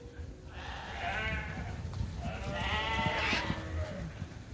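Lambs on a farm bleat in two long, wavering calls of moderate loudness over steady low outdoor rumble and shuffling.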